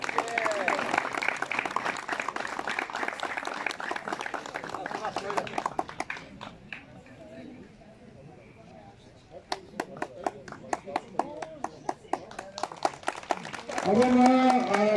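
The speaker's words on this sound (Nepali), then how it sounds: "जोरदार तालीले स्वागत गरौँ सुभाष तामाङलाई" Outdoor audience applause at an Eastern Open golf prize ceremony in Dharan, welcoming a winner: sustained clapping that eases off midway, then returns as scattered sharper claps, with voices over it.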